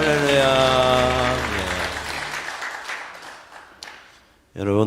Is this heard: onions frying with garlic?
no